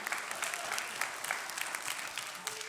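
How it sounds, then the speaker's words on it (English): Audience applause in an indoor hall during a Week of the Young Child event honoring a young trumpeter, a steady, dense patter of many hands clapping at moderate distance with no talk over it. "Give a round of applause."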